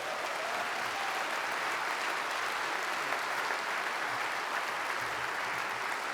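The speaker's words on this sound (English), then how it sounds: "What a wonderful crowd." An audience at a music award induction ceremony applauds in steady, dense clapping that fills the whole stretch without a break or voices.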